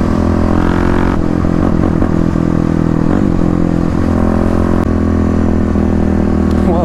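A 2018 Kawasaki KLX351 motorcycle fitted with a full Barker exhaust rips along loud and close, its engine note barking and rising in revs over a constant rough drone.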